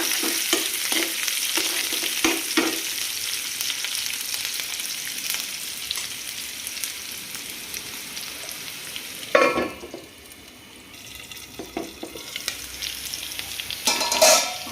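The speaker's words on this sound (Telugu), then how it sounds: "అన్నింటినీ ఫ్రై చేసుకుందాం." Chana dal and onion fry in a pan with a constant close sizzle, broken by scraping stirs and clatter and a brief quieter lull partway through.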